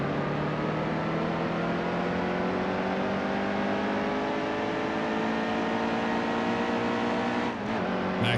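Race car in NASCAR Heat 2 during an Xfinity Series race, its engine holding a loud, steady high drone whose pitch gradually slides as it works through the gears, with a brief dip near the end and no talking.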